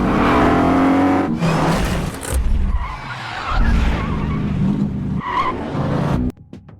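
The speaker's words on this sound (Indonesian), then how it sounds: "menggunakan keahliannya menyetir untuk menghindari mobil itu" A car in a film chase skids with squealing tires and its engine revs hard in loud, shifting bursts. The sound breaks off abruptly near the end.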